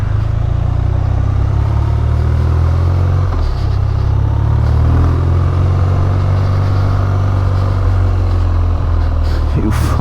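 BMW R12 motorcycle engine idling nearby, a steady low throbbing rumble that holds for several seconds with faint clatter, while someone talks over it.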